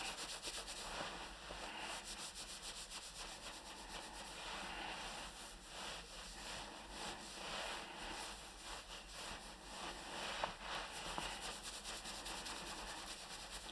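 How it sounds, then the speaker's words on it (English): A whole hand rubs the scalp during an oil massage, producing a steady, soft, close-up friction hiss that continues unbroken and faint throughout. "A little bit of whole hand rubbing."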